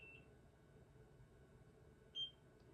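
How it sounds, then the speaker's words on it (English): A single short, high electronic beep from a Nira Pro at-home laser device sounds once near the end over faint background hiss. "and you will hear it beep."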